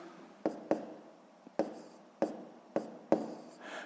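A pen scratches across paper while a sixth-grade math solution is worked out, with several sharp, quiet strokes at irregular intervals against a soft, steady room background.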